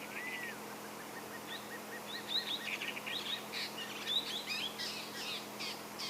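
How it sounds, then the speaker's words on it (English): Fork-tailed drongos give loud, sharp chirping and whistled calls nearby, repeated in quick bursts over a steady low hum. "Some fork-tailed drongos calling loudly nearby. That's the birds you could hear."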